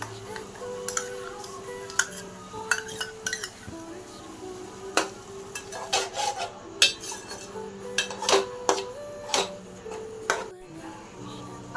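Chili paste goes into a pan for Schezwan chutney amid irregular metallic clinks and scrapes of a spoon against cookware, with soft, sparse speech between the knocks.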